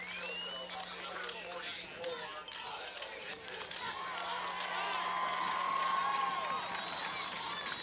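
Dense stadium crowd noise at a high school football game between East Kentwood and Jenison, a steady roar that swells louder in the second half, with cheers and shouts mixed under an announcer's voice.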